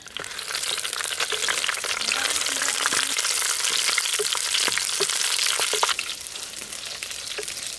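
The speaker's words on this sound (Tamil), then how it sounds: "எண்ணெய் எல்லாம் சூடாயிடுச்சு முன்னாடி வரமிளகா சேர்த்துக்கலாம்" Dried red chillies fry in hot oil in a village-style kitchen, a loud, dense, continuous sizzle close up with a few sharp crackles and spatters, easing slightly at the very end.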